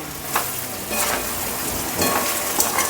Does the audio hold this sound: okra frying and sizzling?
yes